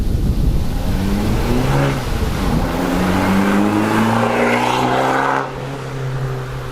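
An Abarth 695 XSR Yamaha Limited Edition with Akrapovic exhaust revs hard and steadily up and down, loud and close, then drops to a lower idle near the end.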